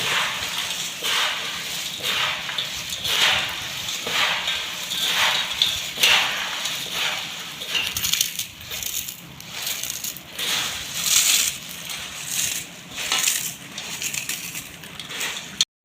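Puffed rice is tossed with fried peanuts and corn flakes, a dry crunchy rustling that rises and falls in steady rhythmic swishes, close and fairly loud throughout.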